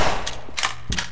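Sharp sniper gunfire from Half-Life 2: Episode Two, a few loud cracks with metallic ringing tails in quick succession, alone with no talk.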